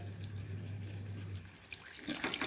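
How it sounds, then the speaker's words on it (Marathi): Water poured from a tap or jug into a pan of potato curry: a steady, close splashing stream, preceded by a low kitchen hum. "आता यामध्ये शिजण्याकरता पाणी घालून घ्यायचं आहे."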